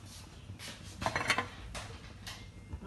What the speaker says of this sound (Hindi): अब मैं इसको दोबारा से धीमी आंच पे इसको ढक कर रखती हूँ